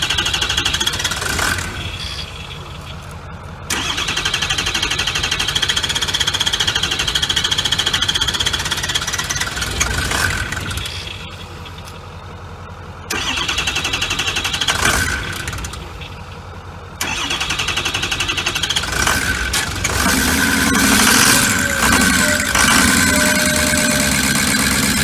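A 6.0 engine cranks and fires several times, then settles into a loud, rough idle with some knocking, broken by brief drops between restarts.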